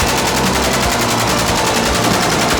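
Loud, continuous rapid gunfire from assault training, as military recruits storm buildings, a dense unbroken volley close to the listener.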